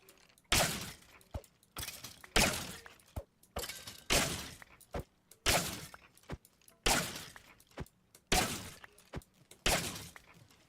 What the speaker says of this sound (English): I think I broke the glass there.